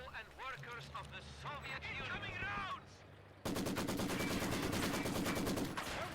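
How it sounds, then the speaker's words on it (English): A Maxim machine gun in a video game firing at a stone building, rapid steady bursts of loud gunfire coming in sharply after a stretch of game sounds with someone talking over them. "Maxim trying to fire at the units inside this building here, but mostly just striking that stone wall there"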